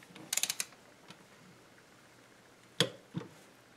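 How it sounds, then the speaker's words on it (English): Ratcheting clicks from a wrench tightening valve cover bolts on a 2005 Chevy Colorado engine, a quick burst of several clicks near the start followed by two sharper single clicks later, fairly faint against quiet background. "there's a real danger of over-tightening these bolts"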